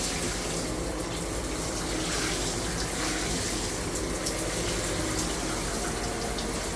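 Water runs steadily through a newly installed shower filter and removable shower head, a continuous close splashing hiss that fills the whole stretch without pause or voices.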